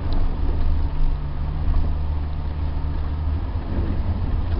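A Land Rover engine rumbles steadily under light throttle while driving off-road, a low continuous drone heard from inside the vehicle with no clear surge in revs.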